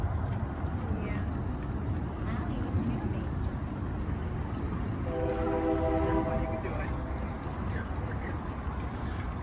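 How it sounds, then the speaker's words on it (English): A train rumbles past in open country near Fort Worth, a steady loud roar with a brief horn blast in the middle, while people chat nearby. "We got trains over here."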